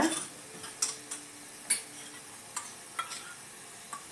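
A spoon stirs ghee into a thick coconut burfi mixture in a pan, making faint, scattered scraping clicks at an uneven pace.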